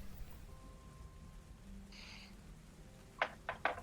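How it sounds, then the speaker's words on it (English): Steady rain storm near a port, heard as a faint, continuous hiss with a few sharper, louder patters and gusts toward the end. "And also, I like a little rain, but this is ridiculous."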